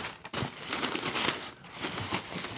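Paper wrapping around a pair of Reebok Question Mid promo sample sneakers in white, SAP green and Harvest green crinkles steadily and up close, a continuous rustle with short louder crackles and no talk.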